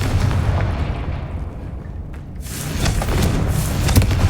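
A Confringo blasting spell explodes in the Hogwarts Legacy video game, giving a loud, booming blast with a sustained rumbling roar that dips briefly and then swells again with sharp crackling bursts.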